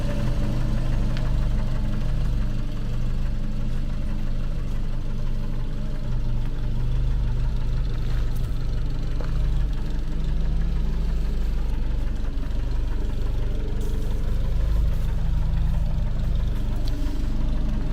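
Renault 11 petrol engine, rebuilt with a replacement cylinder head, idles close by with a steady, loud low rumble and faint knocking throughout, no talk.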